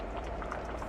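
Chili bubbles in a pot on the stove, a steady close simmering burble with no talking.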